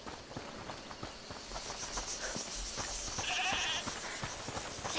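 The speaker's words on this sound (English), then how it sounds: "Is that the goat he talked about?" A goat bleating inside a locked house in the video game A Plague Tale: Requiem, faint and muffled behind soft footsteps and ambient game sound.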